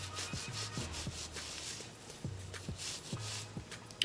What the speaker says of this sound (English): I'm just gonna continue to rub the alcohol back and forth.